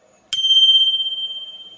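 A single bell ding, the notification bell sound effect, strikes sharply and then rings on with a long, clear, slowly fading tone, alone with no talk.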